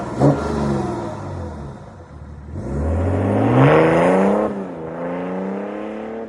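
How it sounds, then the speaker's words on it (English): BMW 640d with an N57 diesel engine revving through its exhaust, loud rising and falling pulls of engine tone, with two strong rev swells and a short gap between them, and no talking. "These N57 engines, even though they are diesels, they can sound really good."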